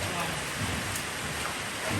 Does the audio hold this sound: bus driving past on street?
no